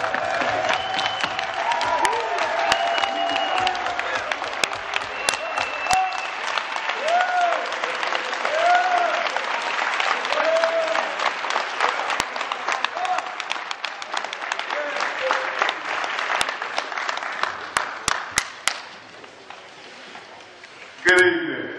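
An audience at an Omega Psi Phi event applauds and cheers for Benjamin Crump's introduction, with dense, loud clapping that holds steady for about twenty seconds before tapering off, and voices mixed in.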